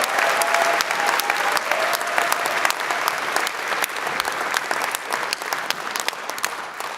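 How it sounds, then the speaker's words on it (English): Audience at a university graduation ceremony for law and social science students clapping in sustained, dense applause, loud and even throughout with a faint voice briefly underneath. "I think she deserves a slightly better round of applause than that"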